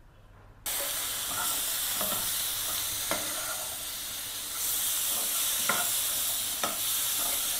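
Mutton pieces are stirred into a bubbling bone-soup mixture in a pan, a steady loud hiss and sizzle with intermittent scraping stir strokes and clinks throughout, no voices.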